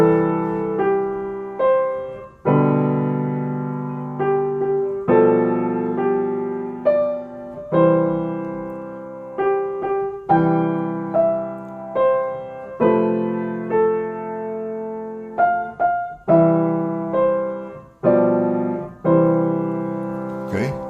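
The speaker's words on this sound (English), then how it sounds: "I'm going to play the chords in my left hand and play the melody in the right hand." Solo piano with chords in the left hand under a melody in the right, playing a song arrangement by ear; clear sustained notes with rhythmic chord strikes, close and steady with no voices.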